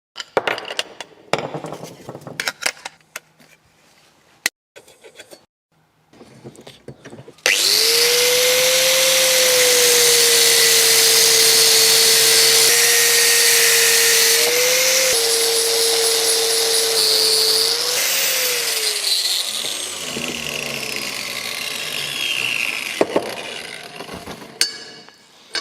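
An angle grinder cuts through a piece of steel angle during Jeep Cherokee repair work, a loud, close, steady high whine lasting over ten seconds after scattered clanks, then winding down into more clattering handling noises.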